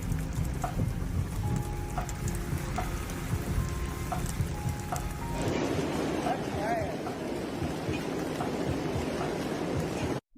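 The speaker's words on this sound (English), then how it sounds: "You can see golf ball sized hail pelting down on the sidewalk here." Golf ball sized hail pelts down on a sidewalk in a steady, dense patter of impacts that continues throughout, with a low rumble underneath before cutting off at the end.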